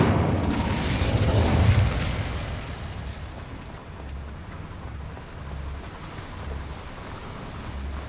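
A fiery burst from the Incendio spell in Hogwarts Legacy flares with a loud whooshing boom, then settles into a low, rumbling roar that slowly fades.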